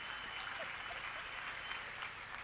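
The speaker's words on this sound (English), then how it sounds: "Let's give him a round of applause," Audience applause at a youth empowerment event rolls on as a steady, even wash of clapping with no voices over it.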